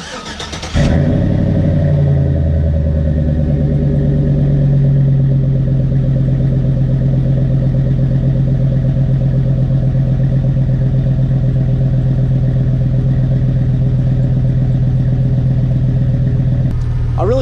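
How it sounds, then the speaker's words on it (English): A 5.3-litre Chevrolet Silverado truck with a Flowmaster 40 exhaust fires up from cold after a brief crank, then settles into a loud, steady, rumbling idle that runs close and unbroken to the end. "I wanted to do the last cold start with the Flowmaster 40 here for you guys."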